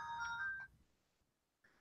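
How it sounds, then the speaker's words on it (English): A phone rings with an incoming call: one short electronic ringtone phrase, fairly faint, followed by quiet and the start of another ring. "Justine, phone call"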